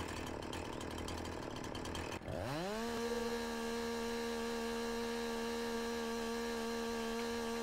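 Chainsaw in Farming Simulator 19 on PS4, a steady loud engine whine that holds at a constant pitch after a brief rising rev-up at the start, running alone without talk.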